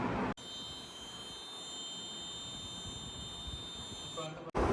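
A steady, piercing electronic wildlife-detection alarm buzzer sounds continuously with faint background noise, cutting off abruptly at the end.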